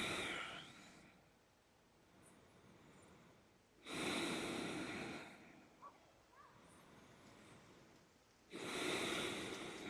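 Slow, even exhalations through the nose come as two long, airy breaths several seconds apart, close and soft, with quiet pauses between them.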